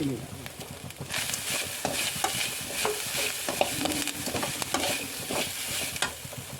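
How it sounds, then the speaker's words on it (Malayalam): Garlic, shallots and whole spices such as cardamom, cloves, fennel and peppercorns roasting in a pan for a cashew masala curry, with brisk, repeated stirring scrapes over a constant close sizzle. "മൂന്ന് വെളുത്തുള്ളിയും രണ്ട് ചെറിയുള്ളി എല്ലാം കൂടിയിട്ട് നമുക്ക് വറക്കാം"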